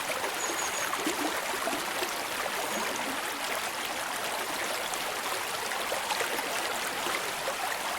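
Flowing stream rushes in a steady, even wash of water, continuous and moderately close with no voices.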